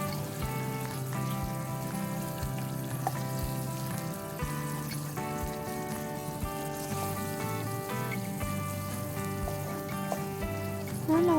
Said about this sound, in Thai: แล้วก็กุ้งสับนะคะ แล้วก็ผัดให้เข้ากันค่ะ